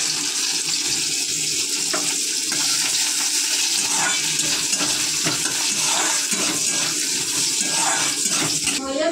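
Onion fries in a pan for a first attempt at cooking leafy greens, a loud, continuous hiss and sputter up close with scattered crackles and occasional clinks of stirring.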